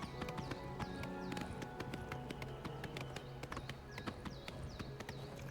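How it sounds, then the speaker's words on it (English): Rapid clip-clop of horse hooves galloping steadily in the video game Oblivion, fairly close, with a low hum of ambient music underneath and no talking. "riding a horse isn't too bad either"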